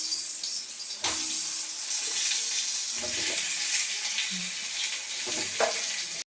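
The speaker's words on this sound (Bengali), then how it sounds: "বেগুনগুলো একটু হালকা করে ভেজে নেব, এটা ভাজা হোক।" Eggplant slices sizzle steadily in hot oil in a pan, a loud continuous fry with occasional stirring clatters and brief pauses, no talking.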